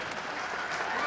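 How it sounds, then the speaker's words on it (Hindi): Applause from a crowd of people gathered outdoors, a steady dense patter of clapping filling the short moment without clear speech over it. "अब ताली बजाओ।"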